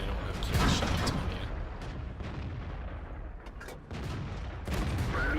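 Tank cannon fire booms in World of Tanks with a KV-5 on the Sacred Valley map, a heavy blast near the start followed by several sharp crackling shots and rumbling impacts amid steady engine noise.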